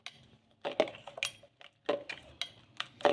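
Egg sooji batter with ajwain and coriander stirred in a bowl gives a few separate, close-up clinks and scrapes of a utensil against the bowl, with short quiet gaps between them.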